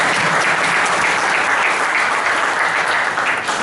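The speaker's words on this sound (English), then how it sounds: "Let's give him a big round of applause." Steady, dense audience applause fills a hall for the guest of honor at an evening business leadership speech, a continuous wash of many hands clapping at close range with no voices over it.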